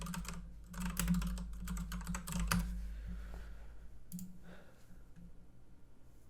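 Quick typing on a computer keyboard to run a search, a dense patter of close key clicks for a few seconds that then thins out into a few scattered taps.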